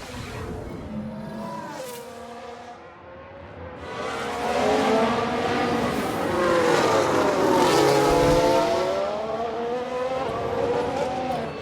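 Racing cars from a 1991-season Formula 1 race in the F1 Manager 22 video game, engines droning and rising in pitch together as a crash unfolds, loud and sustained with layered whining tones and some tyre noise.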